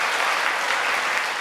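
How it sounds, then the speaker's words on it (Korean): Dense crowd applause from a church congregation during a service, steady even clapping throughout a short burst with no voices on top. "우리 두 교수님 가정을 위해서 박수 한번 보내겠습니다."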